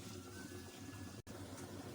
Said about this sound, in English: so into this bitter leaf we'll add hot water just to get off excess